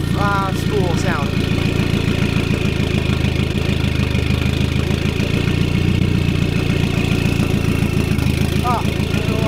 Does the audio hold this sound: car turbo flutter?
yes